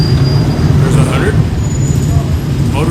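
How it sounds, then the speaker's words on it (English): Traffic at a busy intersection in the Philippines that has no signals, with motorcycles, trikes and cars converging at once. There is a loud, steady roar of engines and road noise close by, with voices faintly audible underneath. "motorcycles, trikes, and cars coming into an intersection all at one time, and there is no signals"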